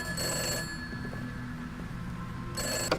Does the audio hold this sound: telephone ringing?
yes